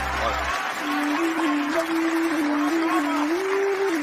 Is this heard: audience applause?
yes